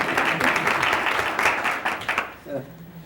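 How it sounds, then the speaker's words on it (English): An audience at a school board work session gives a burst of steady clapping that fades out toward the end, with a voice speaking over it. "give her a hand"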